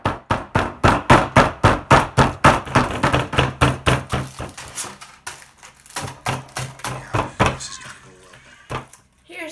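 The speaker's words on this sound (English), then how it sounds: "Now I'm going to do the tin foil bowl with the hammer, foil, sandpaper." A hammer pounds tin foil into a bowl shape, striking in a fast, steady series of loud, close knocks that slow down and thin out into scattered taps toward the end.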